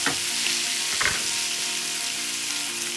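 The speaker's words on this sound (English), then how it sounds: "nice and hot so you start crisping up the orzo right away" Orzo crisps in a hot pan with a loud, bright sizzle, and a sharper burst of crackling comes about a second in. The sound is close and steady, with no voices over it.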